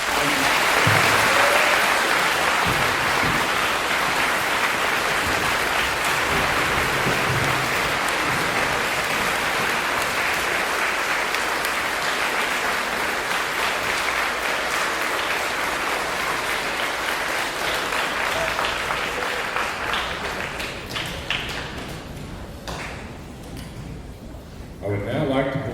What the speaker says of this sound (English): Let's give these fine men and women a round of applause